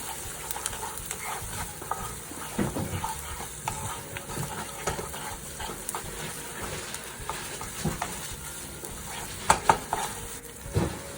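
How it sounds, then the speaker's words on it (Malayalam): Pav bhaji with tomato paste frying in a pan while being stirred, a faint sizzle under irregular scraping and tapping of the spoon against the pan, a few sharper clinks near the end. "ഇനി നമുക്കിത് നന്നായിട്ട് ഇളക്കി മിക്സ് ചെയ്യാം."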